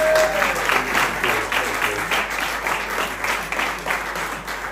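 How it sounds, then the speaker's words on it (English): A room full of people at a Red Special guitar meetup claps warmly and continuously, a dense, close round of applause that tapers slightly by the end. "So big round of applause for Andy for being here."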